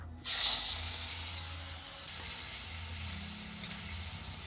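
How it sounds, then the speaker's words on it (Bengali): Red bhetki fish dropped into hot oil, an abrupt loud hiss that settles into a steady, continuous sizzle of frying, close by with no voices. "দিয়ে দেব তেল লাল ভেটকি মাছ দিয়ে দেব"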